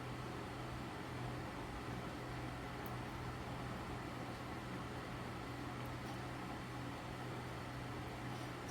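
An electric fan runs indoors with a faint, steady hum and airy whoosh that stays constant and unchanging throughout, with no one talking.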